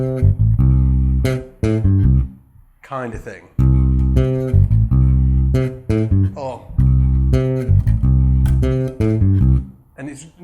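A bass guitar groove is played with every note held the same length, giving deep, even, blocky notes separated by brief gaps, with a voice briefly talking near the end.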